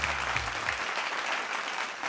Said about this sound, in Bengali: তো চলে হাততালি হয়ে যাক মির্চি সোমক আর মির্চি অগ্নির জন্য